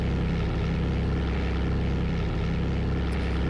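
Twin propeller engines of a Grumman Goose amphibian in a flight simulator game drone in a steady, loud, continuous hum with a low throbbing beat, alone without any talk.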